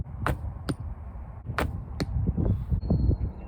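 Arrows shot in archery practice, several sharp whooshing impacts in quick succession, close and crisp, followed by lower thuds and rustling.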